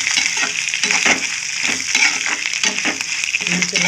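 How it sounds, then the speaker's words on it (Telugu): Curry leaves frying in a pan, a steady close crackling sizzle with scattered pops and spits running the whole time, no voices. "కొంచెం కరివేపాకు వేసుకున్నాము. ఇది కూడా ఫ్రై చేసుకుంటాం."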